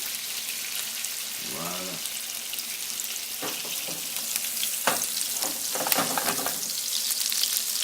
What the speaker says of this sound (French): je vais le saisir et je vais le laisser cuire gentiment